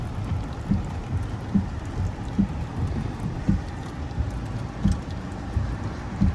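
A car drives slowly through floodwater on a road during a severe thunderstorm, with repeated sloshing splashes at an uneven rhythm over steady rain and wind noise.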